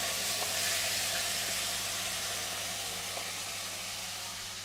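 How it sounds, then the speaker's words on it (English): Food given a light sear in a hot pan while cooking Sri Lankan curry, producing a loud, steady broadband sizzle and hiss close by, with a few faint clicks underneath. "I'm just gonna give it a light sear."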